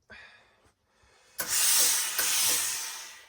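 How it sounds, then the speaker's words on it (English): A hat steamer sprays steam onto a hat's grosgrain during restoration in a hatter's workshop, first with a brief puff, then a loud, steady, close hiss lasting nearly two seconds with a slight break partway through. "Then put a little bit of steam, and that will allow me just to press it down a bit."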